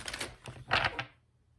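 Playing cards being shuffled during a tarot reading, a quick burst of crisp riffling and slapping clicks lasting about a second, close and alone, then trailing into quiet.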